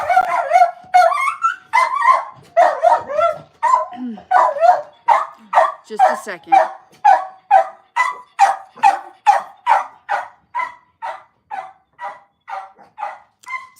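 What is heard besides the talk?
dog Humphreys barking after the doorbell rang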